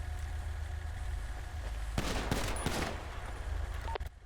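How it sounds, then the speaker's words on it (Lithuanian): Burst of rapid gunfire from a video game, a loud fusillade of shots lasting about a second and a half, followed by a few scattered shots over steady low background rumble. "Kas čia į mane šovė?"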